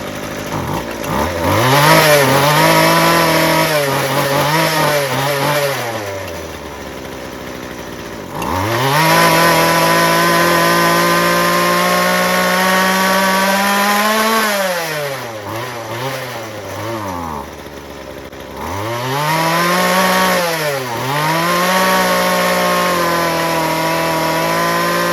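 A Weedeater FL26 weed trimmer, its idle set a little high and its clutch spinning, runs loud and close in a buzzy two-stroke whine. It revs up and drops back in repeated swells, settling between blips at a raised idle.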